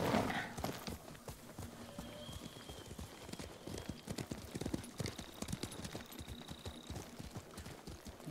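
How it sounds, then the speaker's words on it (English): Horse hooves clip-clop in a steady rhythmic trot in the samurai video game Ghost of Tsushima, with a faint whinny and soft game ambience behind, no talking over it. "I can jump off the horse, but the horse cannot jump."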